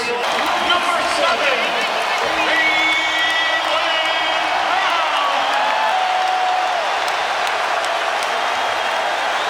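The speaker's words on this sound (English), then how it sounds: "More substitutions, more ovations." A packed arena crowd at the 2024 NBA Finals, Celtics against Mavericks, gives a sustained ovation during late-game substitutions, with steady cheering and whoops and shoe squeaks on the court, continuous and loud.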